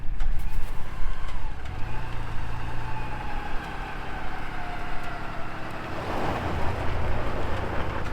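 A four-wheel-drive truck stuck in snow drones with a steady engine note and rising revs as its tires spin, a hissing wash building toward the end; continuous and fairly close.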